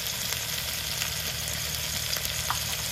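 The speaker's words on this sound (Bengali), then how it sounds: "এবার নেড়ে চেড়ে মশলাটাকে ভালো করে কষিয়ে নেব।" Spice paste with salt and turmeric fries in a pan while being stirred, giving a soft, continuous sizzle with faint scraping and a low background hum.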